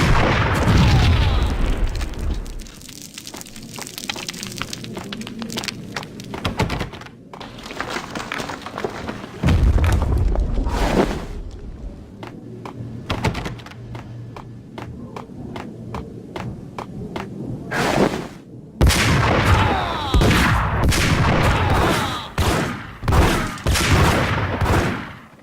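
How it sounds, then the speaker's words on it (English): Heavy bombing explosions rumble through a Max Payne game scene, with repeated loud booms and bursts separated by brief quieter gaps, some hits deep and thudding, others sharper and crackling. "They're bombing us!"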